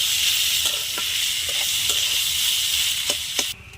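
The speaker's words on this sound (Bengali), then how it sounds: "আমি ভালো করে নাড়িয়ে নেব" Steady sizzling from a frying pan of boiled potato filling for vegetable chops, with a spoon scraping and tapping through it at irregular intervals, close and continuous.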